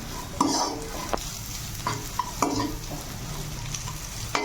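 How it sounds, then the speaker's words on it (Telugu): Chillies with ginger and garlic frying in hot oil over high flame for egg fried rice, a steady soft sizzle broken by several sharp scrapes and clinks of a spatula stirring against the pan. "వీటిని బాగా ఫ్రై చేసుకుందాం."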